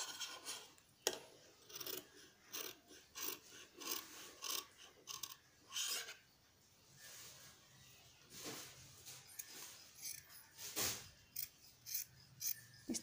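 Scissors snip trouser fabric along a stitched outline, giving a run of close, crisp cutting sounds with brief pauses and soft rustling between them.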